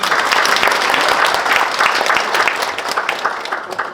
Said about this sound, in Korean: 서로를 위해 박수 부탁드리겠습니다.